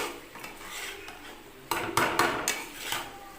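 A utensil stirs salt and turmeric in a metal cooking pan, giving a few soft scrapes and then a quick series of close, bright clanks and scrapes against the pan.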